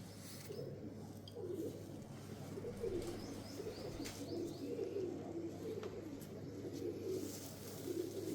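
Pigeons coo softly in low, repeating murmurs, with faint chirps and light background rustle.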